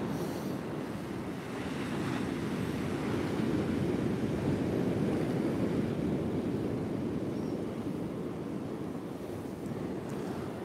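Strong wind of around 40 mph roars steadily across the microphone with a constant wash of surf breaking on Trimingham Beach during rainy shore-angling weather; the sound is dense and unbroken, with no speech.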